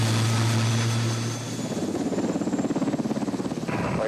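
A Sikorsky S-70C Black Hawk firefighting helicopter thunders nearby. Its steady engine whine is joined by a rhythmic rotor thump that grows more pronounced toward the end.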